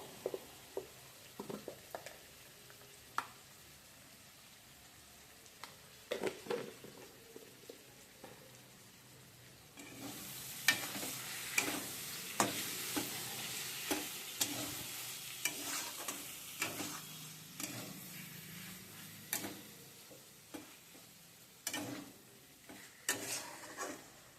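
Mushroom curry with chopped tomatoes and salt sizzles in a pan, with repeated scraping stirs of a spatula that grow louder and busier partway through.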